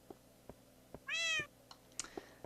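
A cat in Minecraft gives a single clear meow, close and fairly loud, amid soft scattered clicks and game sounds, with no talking over it.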